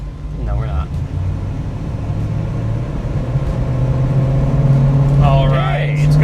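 A 1965 Ford Mustang's 289 V8 pulls away from a stop sign, a close low engine drone rising steadily in pitch and loudness, with brief talk from people inside the car at the start and end.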